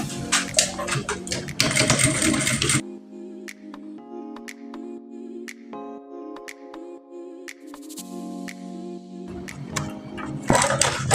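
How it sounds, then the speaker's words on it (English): A sewing machine stitches along the outer edge of corset bust caging, running in bursts of rapid mechanical whirring between quieter pauses with light clicks. "So I'll be sewing from the outer part first, the outer edge."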